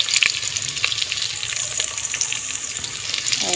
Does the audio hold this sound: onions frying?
yes